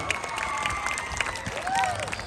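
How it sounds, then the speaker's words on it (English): Audience at a Long Island Aquarium sea lion show applauding and cheering, a lively crowd of clapping with whoops and raised voices throughout. "Let's give her a nice round of applause."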